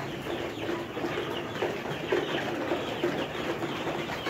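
A flock of 64-day-old layer pullets, Saver Star birds, cluck and chatter steadily while pecking at grower feed in a poultry shed, a dense continuous murmur of many birds close by.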